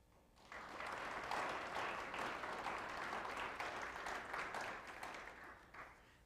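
A crowd at the Orange City Tulip Festival claps for the Tulip Queen candidates, a full, even wash of applause that swells in after half a second and holds steady to the end, no voices on top.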